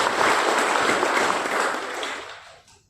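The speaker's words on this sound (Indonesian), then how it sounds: "Tepuk tangan dulu buat kita semuanya" Audience applause at a leadership event at Berau Coal, a dense burst of many hands clapping loudly and evenly before tapering off toward the end.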